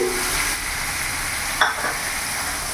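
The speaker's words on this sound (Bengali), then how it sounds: "এর মধ্যে একটা টমেটো আমি পুরো বাটা দিলাম।" Loud, continuous sizzling comes from potatoes frying with a whole ground tomato paste, a dense steady hiss broken by two brief stirring scrapes near the end.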